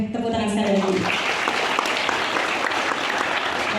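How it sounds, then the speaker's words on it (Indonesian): Audience applause at a hotel event for a school group, loud, dense clapping that starts over the tail of a voice and then carries on alone for a few seconds. "Boleh tepuk tangan sekali lagi."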